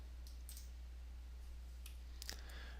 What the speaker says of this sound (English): I will click on Redact